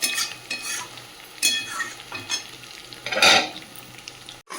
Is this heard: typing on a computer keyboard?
no